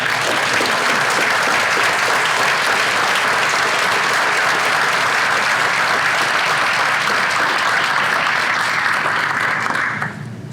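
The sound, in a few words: audience round of applause for award recipient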